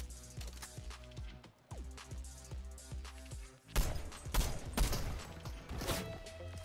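Sniper gunfire in the Fortnite video game during season 4, with loud, sharp shot bursts cracking out in the second half after a stretch of rhythmic in-game thumping.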